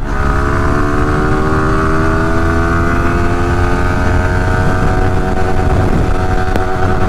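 Yamaha R15S motorcycle engine accelerating hard, a loud, close, steady rising drone with climbing pitch across the run, no voices over it.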